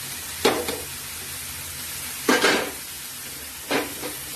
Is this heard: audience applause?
no